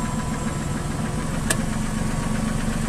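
A car engine idles steadily and close by, a continuous low rumble with a faint rhythmic knock and one brief click partway through.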